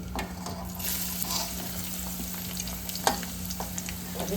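Garlic, cumin and asafoetida frying in hot oil in a kadhai give a steady close sizzle with occasional spoon scrapes and a sharper clink near the three-second mark.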